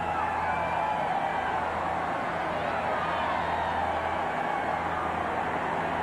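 A crowd of 93,000 fills the stadium at a 1990 Tennessee vs Temple college football game, a steady, distant wash of crowd roar that stays even and unbroken throughout.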